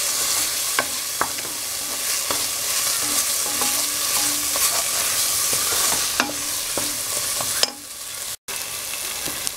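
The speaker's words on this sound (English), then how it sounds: "Now the masala is nicely cooked and fried." Masala sizzles loudly in a pan for malai kofta gravy with frozen green peas, while a spoon scrapes and stirs in irregular knocks, close and continuous with no voices.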